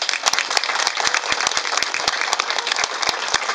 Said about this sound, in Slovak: Takže ešte raz jeden potlesk pre neho.